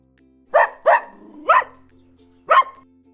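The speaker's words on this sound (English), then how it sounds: "I am a dog." A dog barks four times in sharp, loud bursts, two quick barks followed by two more spaced apart, close by with nothing else audible.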